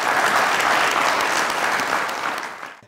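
A studio audience at a comedy show bursts into loud, dense applause that holds steady and then tapers off toward the end.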